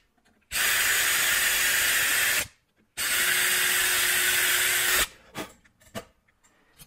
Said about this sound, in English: and then we'll drill those holes.